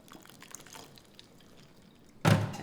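Green beans dumped from a strainer into a bowl of ice water: a single loud splash and clatter near the end, after a quiet stretch of faint drips.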